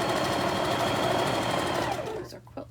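A sewing machine stitches borders onto a quilt top with a loud, close, continuous whir that slows and cuts off near the end, followed by a few faint handling clicks.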